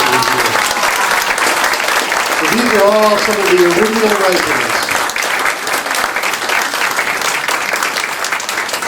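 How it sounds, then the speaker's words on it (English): A commemoration audience applauds steadily and fairly loudly for the full stretch, a dense wash of many hands clapping, with someone speaking over it partway through. "And let's give ourselves a round of applause."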